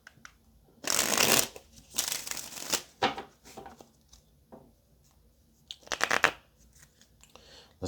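Tarot cards are shuffled close by in several quick riffling bursts separated by short pauses, crisp papery flutters with quieter handling rustles between them and no speech.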